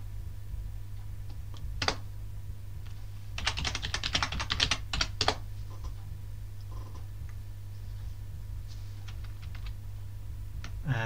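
Keys clatter on a computer keyboard as a command is typed into a Raspberry Pi terminal, coming in quick soft bursts with pauses between them, close and quiet over a low steady hum.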